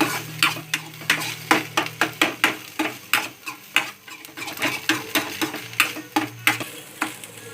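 A utensil stirs Maggi noodles with turmeric in a frying pan, scraping in a steady rhythm of repeated strokes. Soft sizzling runs underneath, close by, and no one speaks.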